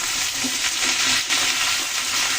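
Potato and cauliflower pieces fry in oil in a pan, giving a steady close broadband sizzle with faint stirring scrapes, no voices.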